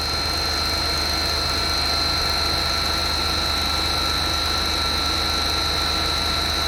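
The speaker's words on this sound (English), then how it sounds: "You can see the motor is at running condition." An induction motor runs steadily in a lab test setup, giving a constant droning hum with a sustained high whine, close and even throughout with no speech.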